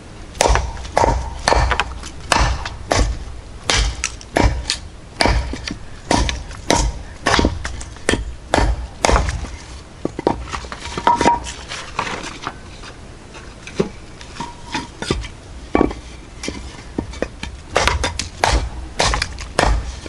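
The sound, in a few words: knife chopping wood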